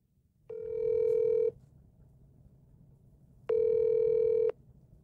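A phone call ringing out: two loud, even ringback tones about a second each, separated by a pause, over faint background hiss.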